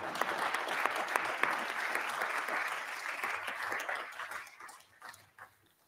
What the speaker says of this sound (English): And the applause may show that we really appreciate that.